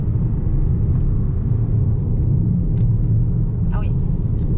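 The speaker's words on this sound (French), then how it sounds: "il y a pas mal de bruit de roulis parce qu'on a les pneus hiver, donc on a des pneus très bruyants" Road noise from winter tyres on a BMW 2 Series Gran Coupe rolling over rough asphalt, a steady low rumble heard from inside the cabin with people talking over it.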